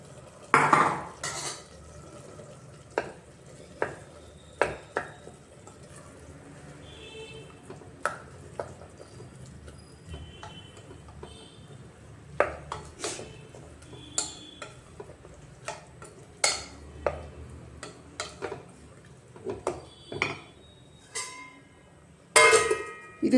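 A spoon stirs tomato puree with a ground coconut and Byadgi chilli paste in a pan for tomato bath, giving sharp, irregular metallic clinks and scrapes over a faint, low background.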